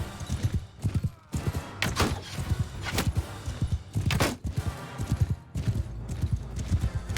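Horse raiders gallop across a Mount and Blade Bannerlord battlefield, with loud, dense, irregular hoofbeat clatter and occasional sharp impacts from the fighting, all continuous with no voices.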